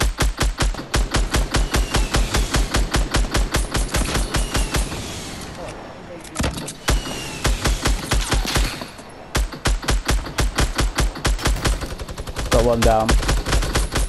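Video game machine guns fire in long, rapid bursts, loud and close, with short pauses between volleys and a voice speaking briefly among the shots.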